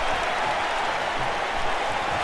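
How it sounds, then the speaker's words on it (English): A WWE 2K20 arena crowd keeps up a dense, steady wash of cheering and clapping at moderate volume, with no voice standing out. "And already the crowd definitely getting into this"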